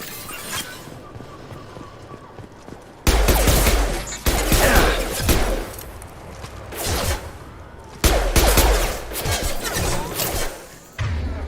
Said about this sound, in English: it was like grenade launcher